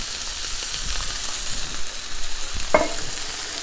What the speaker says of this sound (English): The meat is getting nice and seared.